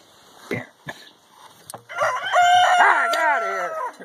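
A chicken on a farm gives a few short clucks, then breaks into a loud, close, drawn-out rooster crow that dominates the rest of the moment.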